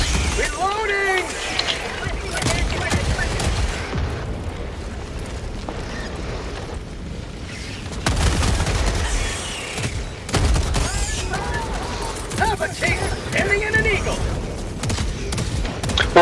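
Sustained Helldivers 2 combat with sentry turret fire and explosions, dense bursts and booms continuing throughout at steady loudness, with a voice talking over parts of it.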